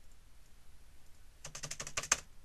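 Computer keyboard keys tapped in a quick burst of about eight clicks during a Sherlock Holmes: The Awakened game session, near but faint, following a quiet stretch.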